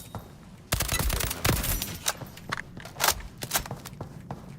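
Rapid bursts of gunfire from a weapon in the video game ALARA Prime crackle close and loud in irregular volleys, with sharp single shots and footsteps between them.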